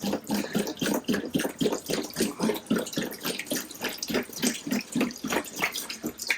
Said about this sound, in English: I always start off with adding a little bit of water to my bucket.